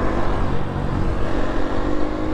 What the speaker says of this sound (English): I'm pretty sure there's a car behind me.